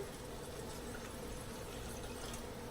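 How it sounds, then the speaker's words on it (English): Water pours steadily into a cooking pot for Jamaican curry chicken, a continuous even splashing rush that holds at the same level throughout, with no voices. "we're going to add water to the pot"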